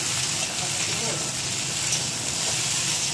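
Taro, potato and eggplant frying in a pan for a hilsa fish curry, a steady broad sizzle and hiss held at close range without pause.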